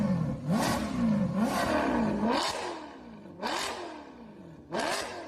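A modified Porsche 935 race car engine revs in a drift event, with repeated rising, whining surges in bursts, loud and close, each rev climbing then dropping away.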